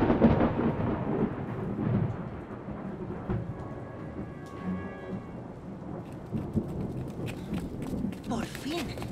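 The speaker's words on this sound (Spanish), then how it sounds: "La tormenta casi está aquí." A thunderstorm closes in within an animated cartoon. Low thunder rumbles and rolls alongside a constant patter of rain, with occasional sharper cracks and voices mixed in.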